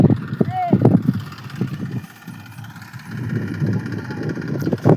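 A tractor hauling a load of sugarcane arrives at a yard, its engine chugging steadily close by while people talk over it.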